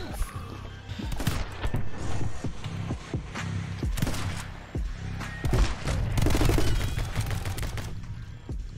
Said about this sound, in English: I don't really like the burst of this rifle. Like, it's not a continuous shot. It just does that and then it stops.